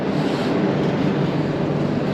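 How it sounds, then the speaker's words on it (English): Train arriving at a Yugoslav-era railway station in Sarajevo, a continuous loud rumble with low mechanical roar, steady and close throughout, no speech. "I think this might be my train"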